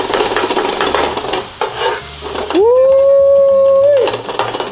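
Thin-sliced ribeye beef frying with onions on a griddle, a steady loud sizzle and scraping with a spatula, broken midway by a sustained whistle-like tone before the sizzling continues.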